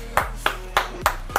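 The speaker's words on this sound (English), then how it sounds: "Let me clap it up for boys real quick." Five evenly spaced, crisp hand claps, close and alone with no talk, played in the Roblox game unOrdinary.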